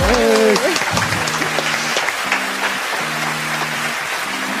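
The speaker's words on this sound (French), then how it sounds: "On peut les applaudir." A studio audience applauds at the close of a Mauritian TV game show, sustained clapping under a host's voice, with musical tones sounding through the middle and end.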